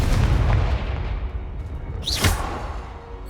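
Confringo fire spell explosion in the Hogwarts Legacy video game: a steady roar of broadband noise with a sharp whooshing sweep and boom near the end of the clip, loud and close, with no talk.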